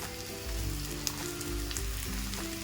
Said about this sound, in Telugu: పచ్చివాసన పోయేదాకా మనం వేయించుకోవాలి